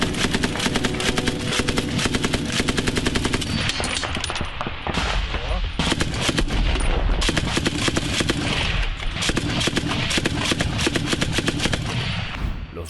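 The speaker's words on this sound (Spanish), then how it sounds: "los disparos de fusil comienzan a sonar desde las ventanas y" Dense bursts of rifle gunfire from windows and rooftops of surrounding houses crackle continuously, rapid shots overlapping into sustained volleys with brief lulls, loud and close throughout.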